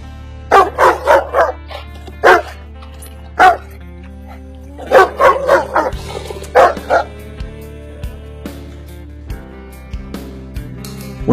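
A puppy barks in a string of sharp, close yips and woofs, clustered in bursts with short pauses, then settles into quieter whimpers over a low steady hum.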